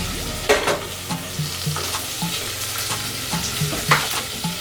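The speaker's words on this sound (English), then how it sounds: "I'm just sauteing the veg" Vegetables and ground provisions sauté in a saucepan with a steady, close sizzle. A utensil taps and scrapes the pan now and then, and soft background music plays underneath.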